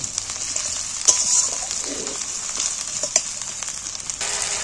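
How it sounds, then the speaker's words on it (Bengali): Ginger and garlic paste fry with onions in hot oil, giving a bright continuous sizzle close by, with a few sharp stirring knocks and scrapes in the pan. "দুটোকেই আমি তেলের মধ্যে পেঁয়াজের সঙ্গে দিয়ে আমি একটু নেড়ে নিচ্ছি"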